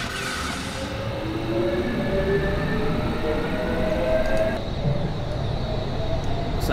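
A Metropolitan Line train pulls away from the platform in Train Simulator 2020, giving a steady, fairly loud rumble of wheels and motors with faint whining tones, and the hiss fades partway through.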